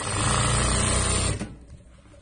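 Sewing machine topstitching a children's navy-style square-collar shirt, a loud, steady close whir that stops abruptly after about a second and a half, leaving quiet room noise.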